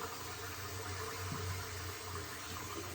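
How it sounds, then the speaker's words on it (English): Water runs steadily from a tap in a continuous, even rush, close by and unbroken for the whole stretch. "turn on the faucet"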